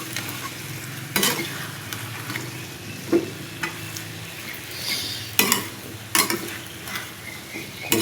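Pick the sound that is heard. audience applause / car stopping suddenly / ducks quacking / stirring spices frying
stirring spices frying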